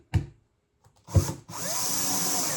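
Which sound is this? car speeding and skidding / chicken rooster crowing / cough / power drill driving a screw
power drill driving a screw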